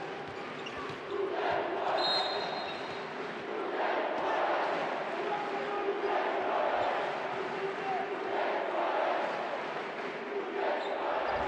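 Crowd applauding free throws at a Montenegro v Ukraine FIBA Basketball World Cup qualifier, a steady broad roar of clapping and crowd noise swelling and easing in waves beneath continuous commentator talk.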